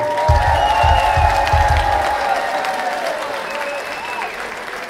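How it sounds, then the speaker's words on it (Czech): Loud, sustained applause for graduating class ITS 4 of the Tachov-Světce technical secondary school at their graduation ball, a big hall of clapping with some cheering and musical tones running through it, then slowly easing off. "zatleskejte jim!"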